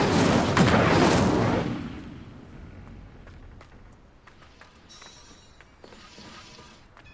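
Fire spell cast in the video game Hogwarts Legacy: a loud, bright fiery burst with crackling blasts over the first two seconds, then fading into quieter game sounds and faint chimes.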